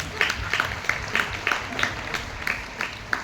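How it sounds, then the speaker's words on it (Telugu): Congregation clapping together at an Easter Mass in St. Teresa of Avila church, Pendurthi, with a fairly even rhythmic beat of hand claps in unison, a few sharper accents standing out. "ఇద్దరు కలిసి గట్టిగా చప్పట్లు కొడదాం"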